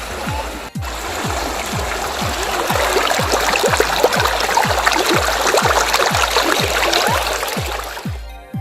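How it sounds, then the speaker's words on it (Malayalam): Strong current of a river beside a village Mahadeva temple in Thrissur: continuous close rushing and splashing water, steady and fairly loud, with faint low thumps recurring at regular intervals underneath. "നല്ല ഒഴുക്കുണ്ടായിരുന്നു പുഴയിൽ"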